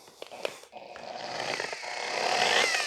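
A variable speed polisher working the clear coat on a 1940 Ford-inspired hardtop coupe, its motor whine rising steadily and growing louder after a few brief handling knocks at the start, close and continuous with no talk.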